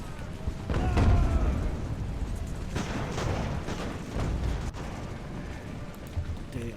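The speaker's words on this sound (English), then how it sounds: "The cannon are manned." Cannon fire in the naval and land battle game Ultimate Admiral: Age of Sail during a Bunker Hill fight, several deep booms spaced apart over a rumbling battlefield background, moderately loud.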